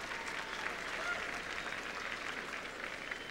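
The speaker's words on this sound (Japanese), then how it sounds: "観衆の声援に応えます。" Steady applause from a large crowd at an Olympic figure skating free skate fills the arena, with cheering mixed into the continuous clapping.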